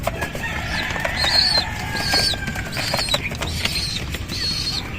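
Wings flap in repeated bursts amid creaking and soft cooing of pigeons, all close and continuous over a low noisy background.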